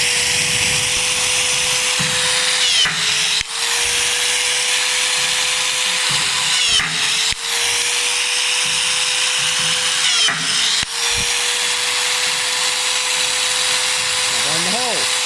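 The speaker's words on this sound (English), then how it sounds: "with a long piece of box tube, which I'm just riveting in now." A riveting tool sets rivets through box tube into a vehicle's sills, a steady loud mechanical whine interrupted by three short dips as each rivet pulls, with clunks and handling noise in between.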